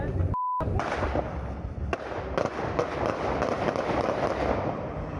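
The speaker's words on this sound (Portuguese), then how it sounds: "Foram pelo menos 10 tiros." Several sharp gunshots ring out at a police checkpoint, a quick string of cracks and thuds heard amid noisy outdoor commotion, with a brief beep near the start.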